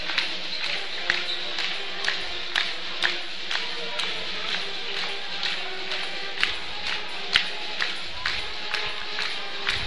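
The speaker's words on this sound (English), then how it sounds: "You can hear the crowd singing the school song." A crowd in a high school basketball gymnasium keeps up a steady, rhythmic clapping beat, like an audience singing a school song at halftime, with sharp regular accents ringing through the hall.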